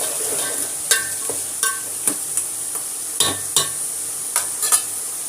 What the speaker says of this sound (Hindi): इसको अच्छे से प्याजों के साथ भून लेंगे मटर।